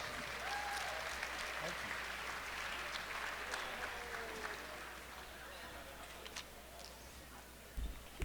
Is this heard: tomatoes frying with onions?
no